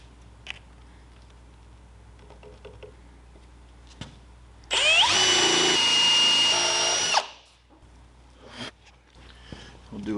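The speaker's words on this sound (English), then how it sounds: "We'll do a small pilot hole the rest of the way through." A power drill with a 1/2 inch bit bores a hole in rough-sawn cedar for a bench, a loud whirring burst of about two and a half seconds between quiet handling noises.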